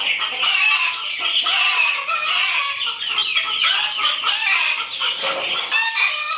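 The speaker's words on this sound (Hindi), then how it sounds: "ये पैडिंग हाउस की मुर्गी इधर आ जाती है और इधर आके शोर करना शुरू होती है और साथ में राहुल भी शोर करना शुरू होता है।" Several Aseel chickens cluck and squawk continuously, a busy overlapping chorus of hens close by, with no one speaking.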